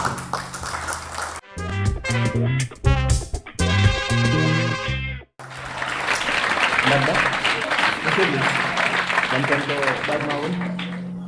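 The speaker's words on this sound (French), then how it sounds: "Applaudissez pour ça" Comedy club audience bursting into sustained applause and cheering, dense and loud, after a stretch of amplified talk and musical effects.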